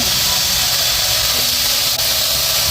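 Chili masala hits chicken in a hot pan, giving a loud, close, unbroken hissing sizzle with no pauses.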